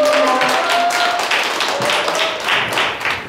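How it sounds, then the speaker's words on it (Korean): An audience gives loud, close applause to welcome a lecturer to a special talk, brisk continuous clapping filling the whole stretch. "큰 박수로 환영해 주시기 바랍니다"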